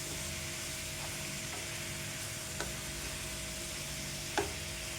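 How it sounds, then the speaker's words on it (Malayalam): Chicken masala sautéing in a pan, a steady broadband sizzle and hiss of frying with a couple of faint stirring clicks, close and continuous, with no talk. "നമുക്ക് ആദ്യം ഇതൊന്ന് വഴറ്റിയെടുക്കാം"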